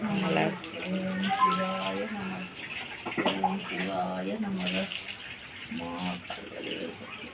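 Water splashes and pours steadily during a Hindu temple ritual, beneath continuous chanting of 'Om Shivaya Namah' and talking voices, close by, with the running water audible throughout.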